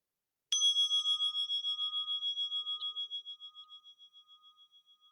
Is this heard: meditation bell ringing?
yes